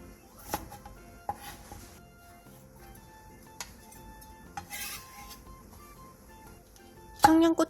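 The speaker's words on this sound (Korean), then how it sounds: "통마늘 10개를 반으로 잘라주세요." Knife blade on a cutting board chops whole garlic cloves in half, a few sharp, separate taps spaced through quiet kitchen background, closing with a louder clatter.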